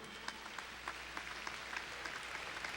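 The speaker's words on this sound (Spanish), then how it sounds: "Denle un aplauso al Señor." A church congregation gives a fairly quiet round of applause, scattered claps rising from a steady bed of hand noise, heard from a distance with no voices on top.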